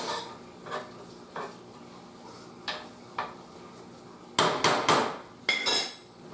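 A knife rough-chopping a small to medium onion on a cutting board, with scattered single thuds at first, then a quicker cluster of sharp, loud chops near the end, with no talk.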